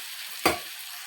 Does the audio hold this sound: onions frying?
yes